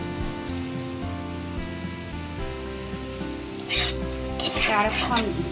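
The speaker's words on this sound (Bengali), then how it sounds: "আরো কিছুক্ষণ সময় নিয়ে একটু আমি ভাজবো" Egg and ash gourd fry in a pan with a steady close sizzle, occasional stirring scrapes and a couple of brief louder hissing bursts near the end, with a faint tonal hum underneath.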